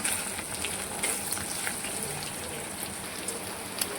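Chillies and onion hitting hot oil in a pan, a steady close hiss and crackle of frying with a few sharper pops, no talk.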